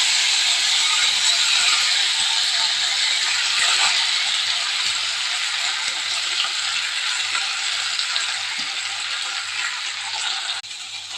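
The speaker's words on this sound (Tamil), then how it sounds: "இப்போ இதை வதக்கி அரைச்சிக்க போகிறோம்." Mint leaves, green chillies, garlic and ginger sauté in a hot pan, giving a loud, steady, hissing sizzle that continues without a break, with occasional faint stirring knocks and no speech.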